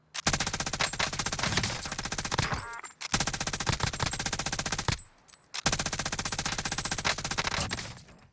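Mounted gun in Call of Duty: Warzone firing in three long, loud automatic bursts, with brief gaps between them, no talking.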